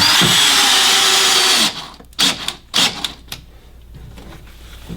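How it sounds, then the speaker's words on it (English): A power drill drives screws into a boat pilot seat up close: a loud, steady whir for a couple of seconds, then several short, sharp bursts with pauses between. "Put the rest of our screws in."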